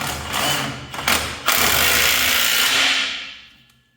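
A ratchet tightens a lock nut while replacing a hydrostatic lever, making a dense, steady mechanical rasp with a few brief breaks early on, then fading away over the last second.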